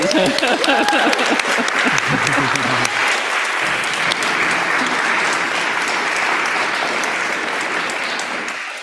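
Sustained applause from a crowd, steady and full throughout, with a few voices briefly audible near the start.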